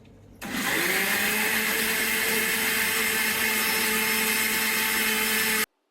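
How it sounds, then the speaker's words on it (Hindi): A mixer grinder jar runs steadily, grinding a cooked tomato ketchup mixture with a loud continuous whir that starts after a short quiet moment and cuts off abruptly near the end. "हमने मिक्सचर को जार में डाल दिया है और चलिए अब हम इसको पीस लेते हैं"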